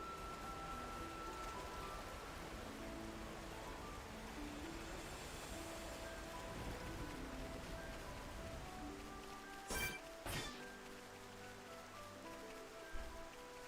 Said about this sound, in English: probably just the rain, right? Precipitation.